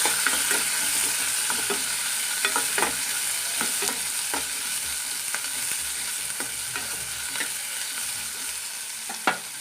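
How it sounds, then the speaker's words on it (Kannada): Onions fry in a pan for a restaurant-style mushroom gravy, giving a steady close sizzle with scattered crackles and light stirring scrapes throughout, and a louder clink near the end, no voices. "ಈಗ ಈರುಳ್ಳಿ ಹಾಕೋದು ನೋಡ್ಬೋದು ಸ್ವಲ್ಪ ಈರುಳ್ಳಿ ಫ್ರೈ ಹಾಕಬೇಕು"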